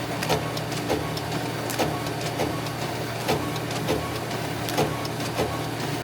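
A printer runs continuously while printing business cards in a print shop, a constant mechanical whir with regular rhythmic clicks and thumps from the feed.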